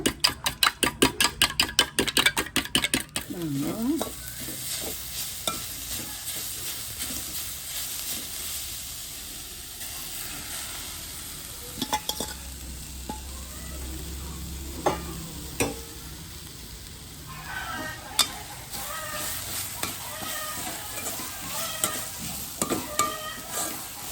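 Egg scrambled with moringa leaves fries in a pan, opening with rapid rhythmic scraping strokes of a spatula, then a steady sizzle broken by occasional stirring clinks and scrapes, close and fairly loud.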